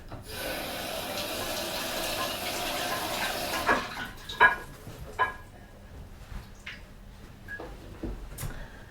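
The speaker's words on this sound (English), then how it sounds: "I'm just going to rinse my hands off here" Water from a kitchen tap runs steadily for a few seconds as hands are rinsed under it, then shuts off, leaving scattered drips, taps and light handling noises.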